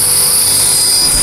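A Tarot 450 RC helicopter with GPS flies with a loud, steady high-pitched whine of its motor and rotor, continuous and close throughout.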